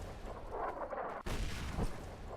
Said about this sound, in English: really cool looking explosions